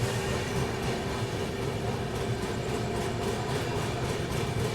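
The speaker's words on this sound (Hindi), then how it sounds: "फिलहाल काफी धीमी धीमी रफ्तार में हम लोग उधना रेलवे स्टेशन को स्किप कर रहे हैं अब" Steady rumble and rattle from aboard the Maharashtra Sampark Kranti Express as it rolls slowly through Udhna railway station, a continuous close, even wash of wheel and carriage noise with faint rhythmic clatter.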